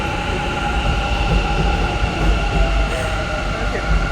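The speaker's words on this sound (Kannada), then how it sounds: "ಟ್ರೈನ್ ಬಂತು" A train rumbles in close and loud, steady wheel noise and low roar filling the whole stretch with faint metallic squeal, no clear speech.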